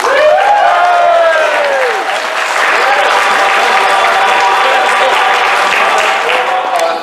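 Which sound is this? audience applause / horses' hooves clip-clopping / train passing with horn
audience applause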